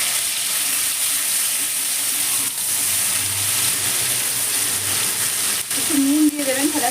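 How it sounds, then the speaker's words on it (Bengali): A paste of ginger, garlic, tomato and Kashmiri red chili powder fries in hot oil in a steady, close sizzle and hiss, with a brief tonal squeal near the end. "আদা, রসুন, টমেটো, কাশ্মীরি রেড চিলি পাউডারের পেস্টটা এর মধ্যে দিয়ে দিচ্ছি।"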